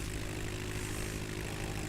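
A propeller airplane engine drones steadily in a flight simulator game, a continuous mid-level hum with no voices over it.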